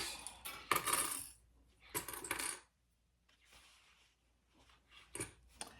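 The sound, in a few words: sewing clips dropping onto a surface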